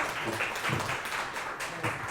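Steady applause from a forum audience welcoming a speaker, a dense continuous patter of many hands clapping at moderate loudness.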